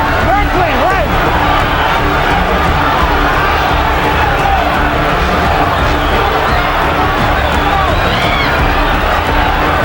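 Loud arena crowd cheering and roaring during the Mike Tyson versus Frank Bruno heavyweight boxing fight, a continuous dense wall of crowd noise with shouts and whistles rising over it.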